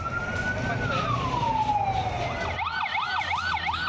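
A loud fire engine siren wails with a long falling tone, then switches to a rapid rising-and-falling yelp, heard close and continuous over background traffic noise in Jambi city.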